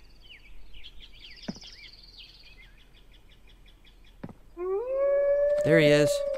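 A wolf howls in a video game with rising, wavering tones near the end, loud over faint birdsong and a couple of sharp clicks earlier.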